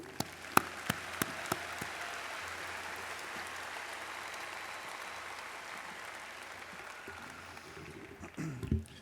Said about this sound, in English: Would you all join me in a round of applause to this group?